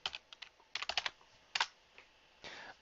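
Quick, light keystrokes on a computer keyboard come in short bursts of clicks with brief pauses between them, close and fairly quiet, with no talking.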